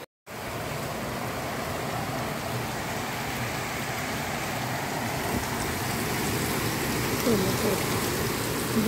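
Steady, dense rain pouring down without a break, a loud continuous hiss with faint patters close by.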